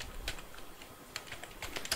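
Quick keystrokes on a computer keyboard while a search is typed, a few scattered soft taps and clicks over a quiet room.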